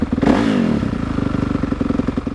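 A dirt bike engine in neutral revs hard and loud up close past 5,000 RPM, a rising roar settling into a fast, steady throbbing idle-like pulse.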